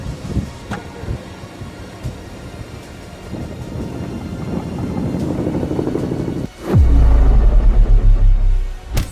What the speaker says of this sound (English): Helicopters were used to drop water